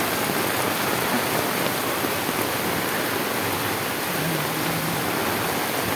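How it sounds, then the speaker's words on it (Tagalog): During a typhoon at the Tullahan River, torrential rain roars in a constant, loud wash of falling water, steady throughout without any speech. "Bininaw ako sa lakas ng ulan."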